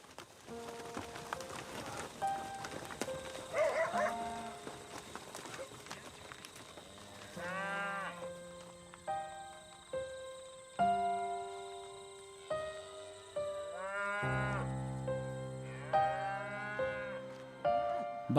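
Cattle moo repeatedly from paddocks on a farm, several long drawn-out calls rising and falling at moderate distance, overlapping one another, with a steady hum of background noise behind them.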